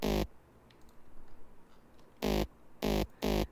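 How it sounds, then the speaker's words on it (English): A mid-bass saw synth effect plays in an electronic mix as short, loud, buzzy stabs: one at the start, then three more in quick succession after a quiet gap. "I do have some mid-bass saw effects here as well"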